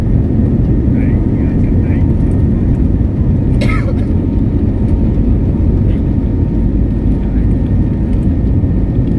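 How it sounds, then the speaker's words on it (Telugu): Steady airliner engine roar inside the cabin as a flight from Dubai to Hyderabad gets under way, a continuous low rumble filling the whole stretch with a faint voice briefly over it. "ఫ్లైట్ స్టార్ట్ అయిపోతుంది"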